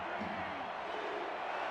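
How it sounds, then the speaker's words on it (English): A stadium crowd roars steadily for the home defense at Silver State Stadium during a football game, a dense, continuous wash of cheering that holds at an even level throughout. "you can hear the Silver State Stadium crowd pumped up, cheering for their defense"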